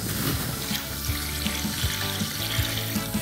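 Tap water runs steadily into a 2-litre kitchen jug, a close, continuous splashing pour with no talking.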